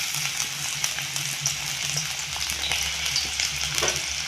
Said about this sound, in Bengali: তেলে দিয়ে দেব পেঁয়াজ কুচি।